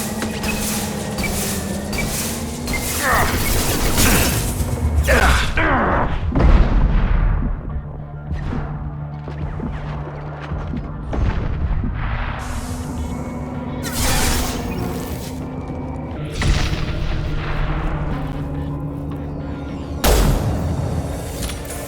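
Heavy booms and rapid weapon fire during a gunship attack in the video game Mass Effect 2, with repeated loud blasts and crashing impacts spread across a sustained firefight, and no speech.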